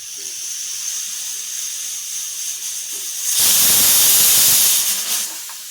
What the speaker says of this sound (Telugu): సుయి సుయి అనే సప్పుడు వస్తుంది ఇంకా విజిల్ కూడా వస్తుంది